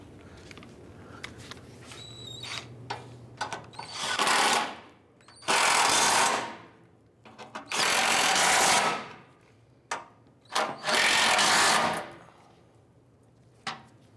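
Bolts being tightened down on a 2000-2006 Toyota Tundra engine with a power tool, four loud whirring bursts of a few seconds each separated by pauses with small clicks and clatter, close up.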